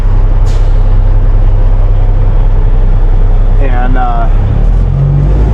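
A flatbed semi truck carrying light towers drives out of town in Nebraska, its engine and road noise a loud, steady rumble heard from inside the cab, with someone talking over it.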